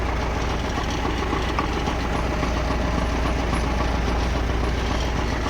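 A tractor engine runs at a steady idle beside an orchard, a continuous low rumble with no change in pace, heard alone and fairly close.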